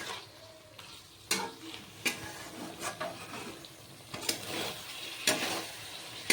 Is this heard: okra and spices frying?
yes